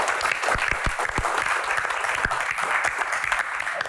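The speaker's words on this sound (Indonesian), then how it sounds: "tepuk tangan dong buat Pak Bola" A studio audience at a talk show applauds, a full steady patter of many hands with a few sharper claps standing out, no voices over it.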